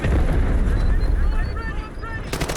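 Heavy, rumbling explosions in the video game Delta Force boom continuously with dense low-end blasts and gunfire-like crackle, loud and close throughout, with a sharp burst near the end.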